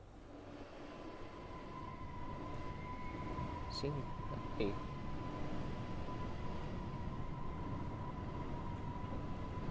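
Underground trains in two-car sets in Train Sim World 6 rumble on steadily, with a constant whining tone and a couple of brief metallic clicks, while a voice speaks quietly over the low hum.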